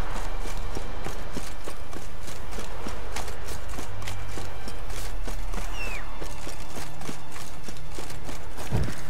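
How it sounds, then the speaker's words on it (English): Hooves clip-clop steadily as a horse gallops in The Witcher 3: Wild Hunt, a continuous rhythmic pounding over a low rumbling game soundscape with no talking. "Let's go, horsey!"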